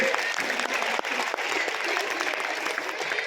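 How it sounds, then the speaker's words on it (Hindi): Audience applause for schoolchildren after their performance at a Kendriya Vidyalaya Republic Day celebration in Panagarh, a dense, sustained round of clapping from a large crowd with some faint voices mixed in. "एक्सीलेंट परफॉर्मेंस, उन सब के लिए जोरदार तालियां बजाएंगे"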